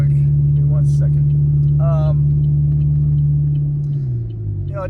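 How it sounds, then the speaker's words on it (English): A loud car engine rumbles steadily at close range with a low droning hum that dips slightly in pitch near the end, while a person briefly talks over it. "I am so sorry about how loud my car is."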